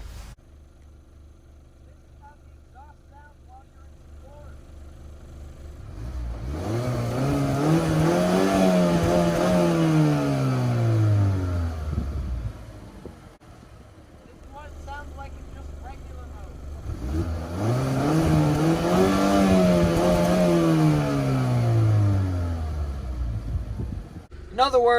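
A Mazda 6 Signature sedan engine revs up twice, each rise swelling into a loud, rumbling exhaust roar before falling back to a steady idle.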